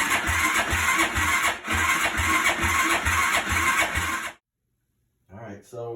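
A 2004 Yamaha YFZ450 quad engine cranks with the throttle open, making a loud, fast, rhythmic starter churn for several seconds. It stops abruptly, falls silent, then cranks again briefly.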